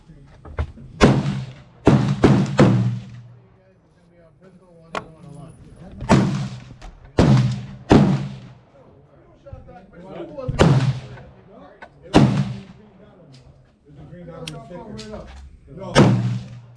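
Gunfire at an outdoor shooting range: a series of loud, sharp rifle shots in irregular bursts with pauses between, each booming report decaying quickly, close to the microphone.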